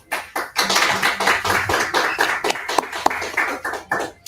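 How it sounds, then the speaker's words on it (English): Round of applause from an audience at a community talk on coping and collective liberation, a brisk burst of many hands clapping that swells early and then tapers into scattered claps near the end. "a round of applause once again"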